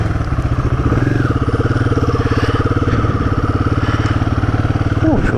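A Royal Enfield Guerrilla 450 runs close by with a steady, throbbing single-cylinder beat, and a faint squeal near the end.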